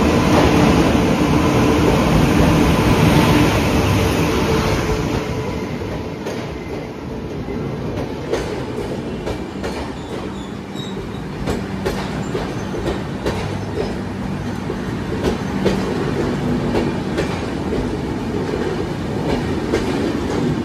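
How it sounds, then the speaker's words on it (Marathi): The Dadar Sawantwadi Tutari Express runs on its rails with a loud, continuous rumble and a rapid clickety-clack from the wheels, heard from on board, with no talking. "ही गाडी 12:05 सुटते."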